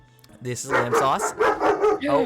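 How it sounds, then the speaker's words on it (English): A dog barks several times in quick succession close to a microphone during an interview, loud yaps mixed with a person speaking over them. "that's my dog. Sorry."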